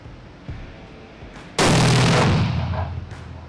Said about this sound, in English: I'll be shooting the Hornady Precision Hunter